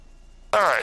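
T-6 Texan trainer aircraft engine powering up on the runway for takeoff, a sudden loud surge of propeller and engine roar that starts abruptly and holds steady, with falling harmonic tones.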